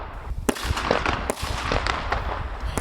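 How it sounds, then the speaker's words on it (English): Kids set off fireworks nearby: a scattered series of sharp firecracker pops and bangs at an uneven rhythm, moderately distant, over low background noise. "So we've got some harmless kids that are blowing off fireworks."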